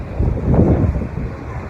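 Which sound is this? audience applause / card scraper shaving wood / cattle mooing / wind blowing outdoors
wind blowing outdoors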